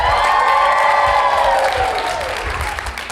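An audience cheers, whoops and applauds loudly as a stand-up comedian walks on stage, a dense crowd roar that slowly fades over a few seconds.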